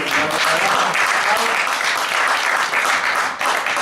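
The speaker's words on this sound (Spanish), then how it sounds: "Denle un aplauso al Señor por esto." A church congregation applauds together, a sustained, even wash of many hands clapping at full strength, with only a brief dip near the end.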